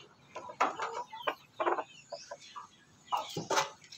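A young stag rooster clucks in its pen, a string of short, close, moderately loud bursts with brief pauses between them.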